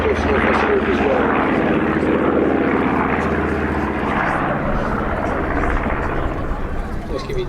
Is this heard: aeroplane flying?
yes